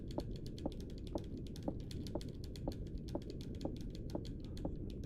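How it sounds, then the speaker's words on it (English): Constant clicking from a Super Nintendo controller D-pad while playing Clock Tower, a steady stream of quick plastic taps close up, roughly every half second with faster clicks between, over a low hiss and no talk. "Can you guys hear the constant clicking of my D-pad?"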